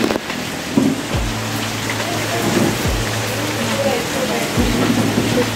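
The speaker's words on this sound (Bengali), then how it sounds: "প্রচণ্ড বৃষ্টি বাইরে" Heavy rain pours outside on Havelock Island, a dense continuous hiss with occasional low rumbles, loud and steady throughout.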